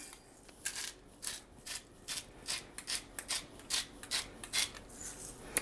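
Pepper grinder cranked over a bowl of mayonnaise dressing with vinegar, salt and garlic powder, a steady series of short, crisp, raspy grinding bursts repeating about twice a second, close and fairly quiet.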